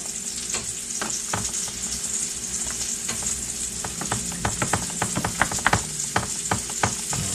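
Croissant sandwich fillings sizzle steadily in a hot pan, with a constant bright hiss close up and a flurry of stirring clicks and scrapes toward the end, no voices.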